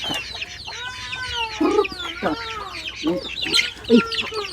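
Domestic ducks calling on a rural farm, with a mix of honks, clucking calls and chirps layered close by, some louder bursts rising above a busy chorus of poultry and birds.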